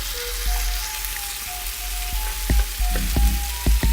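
Stew ingredients fry in a pan with a steady close sizzle, broken by several sharp knocks and scrapes that grow more frequent toward the end.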